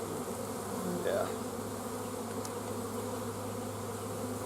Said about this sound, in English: the bees will start to go in